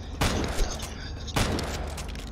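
Two loud, sharp gunshot bursts ring out about a second apart in a Korean zombie video game, each decaying briefly into a noisy tail.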